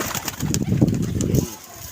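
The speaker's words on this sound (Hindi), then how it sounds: "ये कबूतर देखना, ये देखें जी" Pigeons at a pigeon club coo close by in one low, throaty run lasting over a second, then trail off into quiet, with a faint voice in the background.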